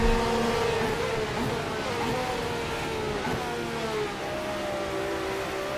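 A classic Formula-style race car engine in Assetto Corsa on the Blackwood GP Classic circuit drones continuously at high revs, its pitch rising and shifting gently across the run.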